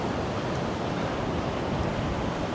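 Wind across a rooftop garden in Kuala Lumpur, a dense, constant roar of gusts buffeting the microphone, loud and unbroken with no voices.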